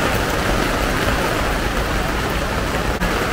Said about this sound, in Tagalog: As you can see, medyo umuulan ngayon.